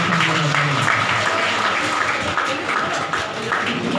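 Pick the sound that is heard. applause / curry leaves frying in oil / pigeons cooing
applause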